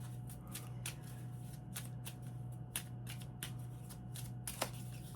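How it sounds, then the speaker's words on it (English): Rapid, repeated riffling of an oracle card deck being shuffled close up, quiet bursts in a steady rhythm over a faint background hum. "let me shuffle these up"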